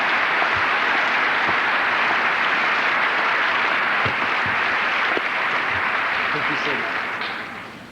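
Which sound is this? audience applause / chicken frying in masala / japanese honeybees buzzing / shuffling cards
audience applause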